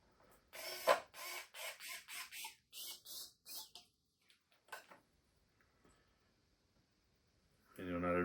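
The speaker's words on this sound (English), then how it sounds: "when you're using an electric screwdriver, go slow." An electric screwdriver driving screws into the interior of a Traxxas TRX-4 RC truck, a series of short whirring bursts in a steady rhythm, close and fairly loud, followed by quieter clicks and then a voice speaking.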